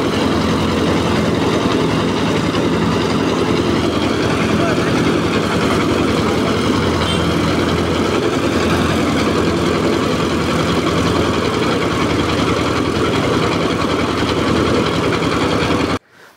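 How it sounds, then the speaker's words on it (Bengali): A mustard oil press machine runs loudly and continuously, a dense, even mechanical drone with rhythmic low churning that holds steady before cutting off abruptly at the end. "আর এখন কিন্তু খুবই দ্রুত বেগে আপনার তেল কিন্তু এখানে মেশিন থেকে ভাঙানো যায়"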